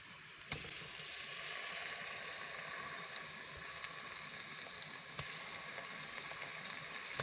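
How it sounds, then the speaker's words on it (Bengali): Large fish pieces frying in hot oil with dry spices, giving a steady, close sizzle that runs continuously with a sharp crackle near the start and occasional spatters. "ধুয়ে রাখা বড় মাছের পিসগুলা মশলাতে দিয়ে দিব।"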